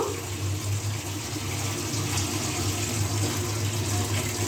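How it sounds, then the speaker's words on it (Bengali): Water runs steadily from a tap or jug into a pan of seasoned small fish for a curry. The splashing flow is close and continuous, with a low hum underneath and no speech. "এখন এই যে আমি পরিমাণ মতন পানি দেব"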